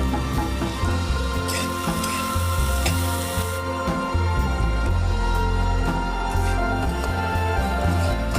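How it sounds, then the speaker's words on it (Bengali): Chopped onions frying in oil, with a loud, dense sizzle and crackle running continuously, broken by occasional stirring scrapes. "এবার কুচি করে রাখা পেঁয়াজগুলোকে ভেজে নেব।"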